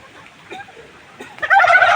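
A turkey gobbles loudly near the end, a rapid rattling burst following a quieter stretch of faint clucking.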